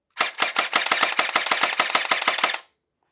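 A Gel Blaster Surge 1.5 gel ball blaster fires in single-shot mode, about a dozen sharp snapping shots in a quick even rhythm over two and a half seconds, loud and close, then silence.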